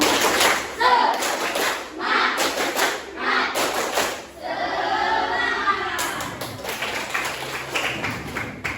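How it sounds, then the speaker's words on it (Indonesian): A classroom group performs tepuk semangat, bursts of rhythmic unison clapping broken by short pauses, close and fairly loud, with a voice speaking between the clapping patterns. "Tepuk semangat."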